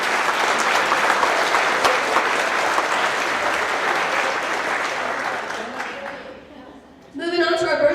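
Sustained applause from an audience at a company's monthly employee celebration honoring staff service anniversaries, loud and steady for about six seconds before thinning out, then a voice begins speaking at the end.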